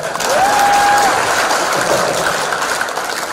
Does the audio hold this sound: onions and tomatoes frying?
no